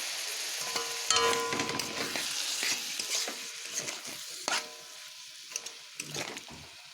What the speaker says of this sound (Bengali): এইভাবে শুধু এটাকে কষিয়ে কষিয়ে পুরো রান্নাটাকে কমপ্লিট করব